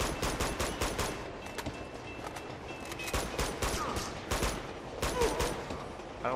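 Rapid gunfire from the video game Uncharted 2, dense bursts of automatic shots and single cracks repeating throughout, loud and close, with no talking over them.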